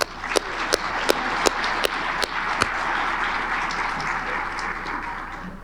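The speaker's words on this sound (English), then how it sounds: "Let's give them another round of applause." Applause from a civic audience at a State of the City gathering, opening with a few sharp, separate claps before thickening into a steady, moderately loud wash that slowly fades out.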